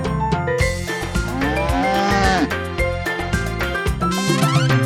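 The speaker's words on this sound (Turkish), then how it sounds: "Çiftliğinde ineği var" Cartoonish cow moos in a children's farm song, sounding repeatedly over a bright, busy musical backing with sung vocals throughout.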